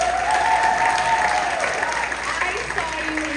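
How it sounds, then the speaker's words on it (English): An audience gives Ronnie a round of applause, loud and sustained clapping that eases slightly toward the end, with voices heard over it. "Give a round of applause for Ronnie."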